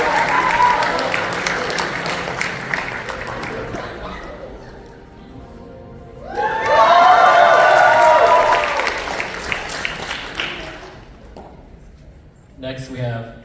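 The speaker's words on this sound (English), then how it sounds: "Please give a round of applause to our two narrators," An audience claps for two narrators at a Vietnamese student association culture night show, with a loud burst of applause mid-clip swelling and fading, talk and crowd murmur before it and a brief noise at the end.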